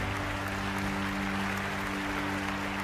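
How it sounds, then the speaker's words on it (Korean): An audience at a corporate promotion ceremony applauds the new Crown Master, a dense continuous wash of clapping at moderate volume with a steady tone humming underneath. "다시 한 번 더 축하의 박수 부탁드리겠습니다"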